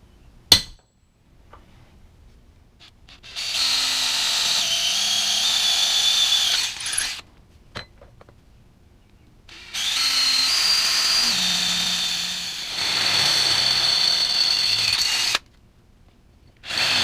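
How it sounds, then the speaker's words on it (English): Power drill boring through metal while fitting a trailer cooler rack and tongue extender to a Can-Am, several whirring bursts of a few seconds each separated by quiet pauses and clicks of the chuck. "I want to get that drill bit center as I can."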